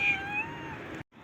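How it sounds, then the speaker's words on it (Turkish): A cat meows close by in one drawn-out, rising and falling cry, loud and clear with nothing else over it, ending in a brief silence before a faint second sound. "Bu çok sevmek isteyen kedi gel."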